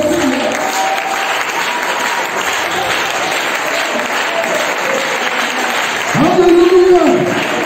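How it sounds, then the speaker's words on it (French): A church congregation claps and cheers in sustained, loud applause throughout, with a voice speaking or calling out over it near the end. "Donnez l'acclamation au Seigneur."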